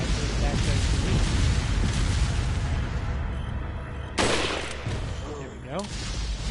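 Rifle shots ring out in Resident Evil 4, firing a brand new rifle at enemies, with a dense burst of gunfire and a sharp report near the middle, mixed with game noise and voices.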